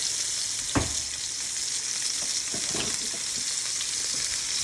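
Fillet steaks sizzle steadily in a hot pan, a dense continuous hiss with a few sharp pops and the scrape of a utensil early on, close and fairly loud, with no talking.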